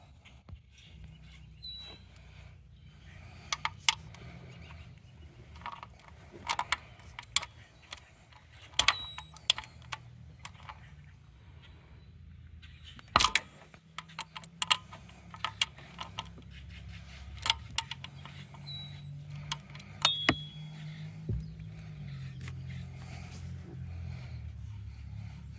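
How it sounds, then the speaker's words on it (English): A socket wrench clicks and ratchets in scattered short bursts while loosening the two oil drain plugs under a Kioti CX2510 compact tractor, with faint, close-up metallic ticks over a low background hum. "I'm going to be using an 11/16 socket"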